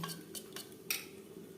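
A metal spoon clinks and scrapes against a pan as ground spices are stirred together for duck egg curry (hasher dimer kalia), four quick, quiet strikes in a loose rhythm, close up with no talking.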